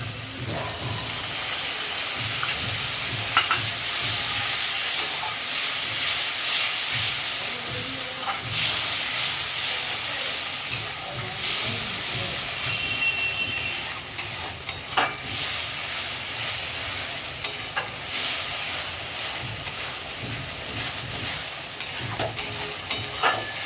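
Spice paste of onion, tomato, ginger and cumin fries in a pan for a katla fish-head and eggplant curry, making a loud, continuous close sizzle and hiss with scattered stirring scrapes throughout.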